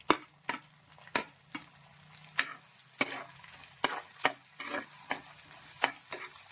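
Green chillies and shallots fry in a pan for a river fish curry, a quiet sizzle broken by regular sharp stirring clacks and scrapes, close and without talk.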